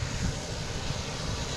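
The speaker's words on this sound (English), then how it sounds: "That's the engine we hear. They'll sit there and throttle up for a little bit." A Boutique Air airplane sits throttling up at Boston Logan International Airport, its engine a loud, steady broadband roar with a low rumbling drone that holds throughout.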